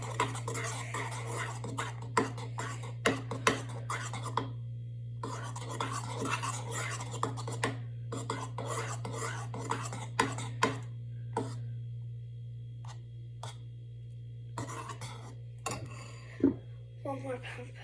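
A spoon stirs and scrapes slime made with dish soap and baking soda in a bowl, giving irregular clinks and wet scraping bursts over a steady low hum, with brief pauses.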